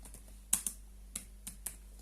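Sparse keystrokes on a computer keyboard while Java code is typed, about six or seven distinct clicks over two seconds, quiet and close, with no talk.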